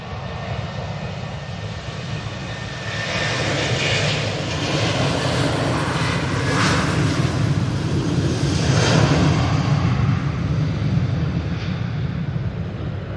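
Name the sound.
Ryanair Boeing 737-800 jet departing Manchester Airport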